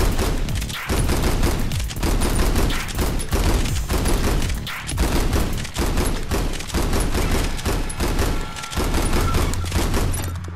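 Shotgun blasts in the VR shooter Gun Raiders VR, a dense run of loud, close shots and thuds firing almost continuously over a steady game soundtrack.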